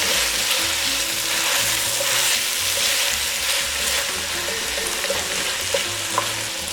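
Sliced fennel sausage frying in a pot, giving a loud, continuous close sizzle with faint stirring scrapes and no voices.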